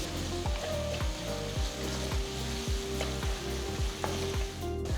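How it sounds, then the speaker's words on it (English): Chopped onion sautés with hing in a pan on medium-low flame for radish sambar, giving a steady close sizzle. A low, regular pulsing hum beats roughly twice a second underneath. "Saute the onions for about 2 minutes on medium-low flame"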